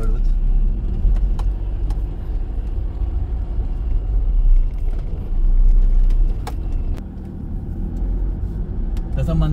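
A car driven slowly along a village road after rain, its low engine and road rumble steady throughout, with occasional clicks and someone talking over the drive.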